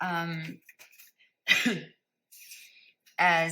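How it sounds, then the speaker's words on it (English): A single harsh cough bursts out close to the microphone, between short stretches of a person's voice. "I've been having coughing attacks"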